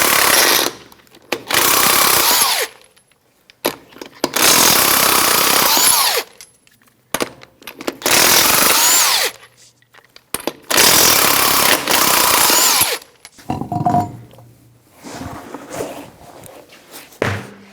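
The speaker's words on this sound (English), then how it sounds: "Take your lug nuts off." Loud bursts from an impact power tool with a 21mm socket taking lug nuts off a 2013-2018 Toyota RAV4 wheel, several long rattling runs of a few seconds each separated by short pauses, close up, with clunks near the end.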